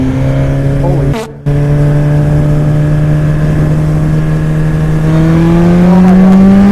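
A car engine running an ECU flash tune revs loud and close, its pitch climbing in sustained sweeps and cut off briefly by a sharp throttle lift before picking up again, with excited talk over it.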